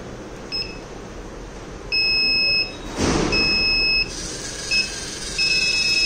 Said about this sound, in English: it will give a buzzer alert.